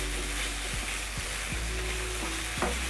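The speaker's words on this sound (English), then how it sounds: "So you stir in the sugar" Pork stir fry sizzles steadily in a hot pan as sugar is stirred in, a continuous bright hiss broken by a few soft scraping strokes of the stirring utensil, close and with no talking.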